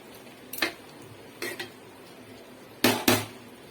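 A utensil knocks and scrapes in a pan while semiya vermicelli is stirred, four sharp metallic clacks in two pairs, close and clear, with no talk.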